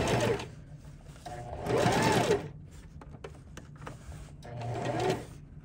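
A sewing machine stitches a Sylveon cosplay costume skirt, running forward, backstitching in reverse, then forward again: two loud whirring bursts of stitching separated by quieter mechanical clicks and pauses, close up.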